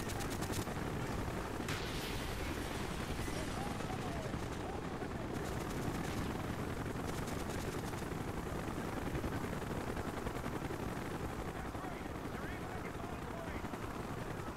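Helicopter rotor chop and engine drone in Call of Duty: Black Ops, mixed with bursts of gunfire and machine-gun fire, a dense, steady wall of battle noise that runs throughout without letup.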